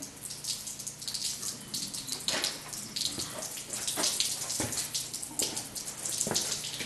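Leftover antifreeze drains from a 1976 Corvette engine during carburetor removal, making a continuous splashing trickle with irregular louder spurts, close and moderately quiet, with no speech.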